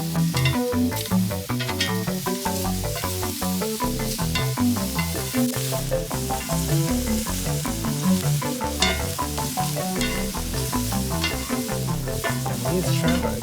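Shrimp sizzle on a Fourneau fire pit grill, a steady bright frying hiss and crackle with fast irregular pops, close and continuous without voices.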